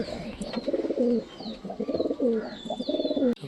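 Pigeons coo close by in a series of soft, throaty, rolling calls repeated in short bursts, with a few faint higher chirps in between.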